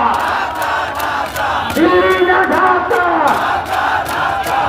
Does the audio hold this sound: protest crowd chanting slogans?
yes